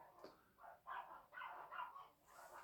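Dogs bark and yip indoors in a quick run of four or five sharp, fairly faint barks, a few whimpering notes mixed in, with no one speaking.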